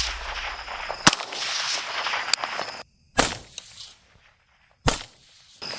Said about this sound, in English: This is a Daniel Defense Mark 18 with the Riz 3 rail. We'll be shooting 55 grain M193 ammo.